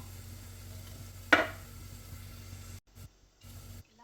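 Onion, tomato, paneer and peas fry in a little oil, giving a sudden loud sizzle burst that settles into a steady, softer hiss, broken near the end by short silent gaps.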